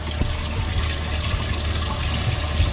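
Water gushes from the aerator pump on a 2022 Alumacraft 2052 bass boat in a strong, steady, close splashing stream, with a low churning undertone and no speech.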